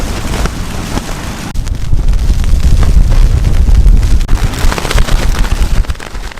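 Strong wind roars and buffets continuously around a Gossamer Gear The One tent, with heavy low rumbling gusts close to the microphone throughout.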